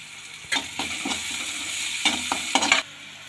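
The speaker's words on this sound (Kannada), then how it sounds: "ಚೆಂದ ಫ್ರೈ ಆಗಿ ಬರಬೇಕು ನೀರುಳ್ಳಿ." Onions with chili and salt sizzle in a pan, with a few quick scrapes and clatters of a stirring spoon over the steady frying hiss, and no voices.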